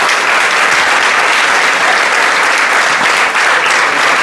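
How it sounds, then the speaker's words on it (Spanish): Loud, sustained applause from a large audience at a bullfighting breeders' union book presentation, a dense, even wash of clapping that continues throughout. "Un aplauso, por supuesto."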